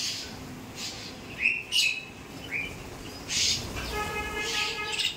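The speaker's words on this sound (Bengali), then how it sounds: "দেখো কি সুন্দর পাখিগুলো আসে।" Birds arrive to eat feed scattered on the ground, giving a few short chirps and squeaky calls at moderate distance, followed by a brief run of clearer tonal notes over a soft background hiss.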